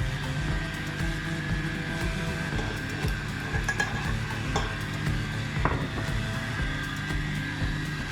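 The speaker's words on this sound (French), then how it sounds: "moi j'ai un fouet électrique, mais vous pouvez prendre un fouet manuel" An electric whisk whirs steadily through crepe batter in a home kitchen, a continuous motor hum with faint rhythmic clicking and scraping against the bowl, running alone without talk.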